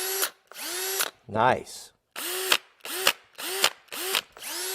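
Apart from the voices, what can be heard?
Milwaukee cordless drill tightening with rattle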